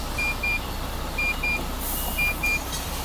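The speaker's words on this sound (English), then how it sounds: "It's beeping because I've taken my seatbelt off." Inside a car, a seatbelt warning chimes in faint, evenly spaced paired beeps over a low engine and road hum.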